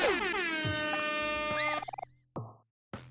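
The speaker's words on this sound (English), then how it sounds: "I like how it was the stock sound effect of just the multiple air horns going off" Several stacked air horns from the video game OMORI blare together in a loud, sustained chord, then break into short stuttering blasts and two final brief honks separated by silence.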